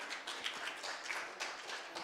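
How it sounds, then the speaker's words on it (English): Audience applause at a live hackathon event in Vizag, a dense, even patter of many hands clapping steadily for about two seconds with no voices over it. "Give them a round of applause."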